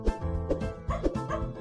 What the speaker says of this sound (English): Oliver howled as hard as he could.